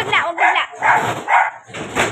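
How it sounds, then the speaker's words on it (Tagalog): A dog barks in several loud, close bursts at an uneven rhythm, with human voices mixed in among the barks. "Sandali lang, may aso."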